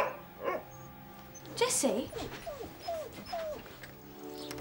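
A tied-up dog barks and whimpers close by, several short yips and whiny cries in a broken rhythm, while a person speaks.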